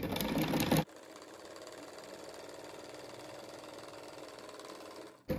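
A sewing machine stitches fabric for a 3D rug, a steady close, continuous mechanical whir lasting several seconds, with brief louder noise at the start and end.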